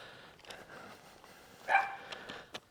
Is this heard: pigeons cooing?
no